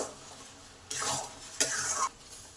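A spoon works through a raw papaya kheer mixture in a pan, two distinct scraping stirring strokes over a low sizzle, close and fairly quiet.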